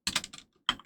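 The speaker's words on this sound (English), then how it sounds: "try typing correctly" Computer keyboard typing in a Stationeers survival game session set on Venus: two quick bursts of clustered keystrokes close to the mic, a brief pause, then another short flurry.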